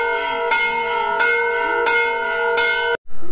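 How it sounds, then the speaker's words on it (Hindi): Temple bells ring at Chandika Ghat in Pithoragarh during morning aarti, with four clear, resonant strikes spaced evenly and each ringing on until the next, then cut off abruptly. "यहाँ घाट वगैरह घंटियाँ बजा रहे हैं लोग"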